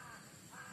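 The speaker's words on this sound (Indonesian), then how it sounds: "Ada suara burung gagak." A crow cawing outdoors in an oil palm plantation, a harsh call or two heard at a distance over steady ambient background noise, with no talking.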